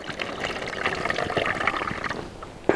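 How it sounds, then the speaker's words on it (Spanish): Sliced onion is washed in water outdoors in the countryside, with close sloshing, pouring and trickling that builds over a few seconds and ends in a sharp splash. "Así que vamos a lavar."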